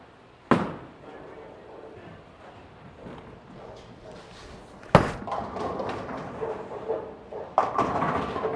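A bowling ball thrown down the lane, with a sharp release thud near the start, a long rolling rumble, then a loud crash of scattering pins followed by clattering; another impact comes near the end.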